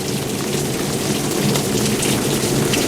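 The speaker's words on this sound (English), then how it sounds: "There's a noisy rain gutter just outside of my tent." Steady, loud rush of rainwater running through a gutter outside a tent, a constant dense splashing and hiss with no pauses, close by.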